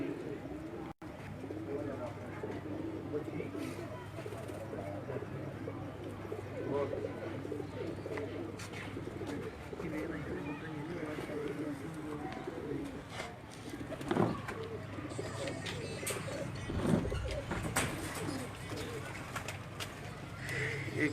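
Golden pigeons coo softly on a Rawalpindi rooftop, low repeated calls running beneath frequent nearby men's conversation.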